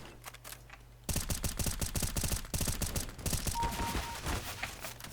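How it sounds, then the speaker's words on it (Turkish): Rapid automatic gunfire from Counter-Strike: Global Offensive erupts after a quiet second and continues as dense, loud bursts of shots for the rest of the clip. "Kim nereden vuruyor? Yukarıdan vuruyormuş."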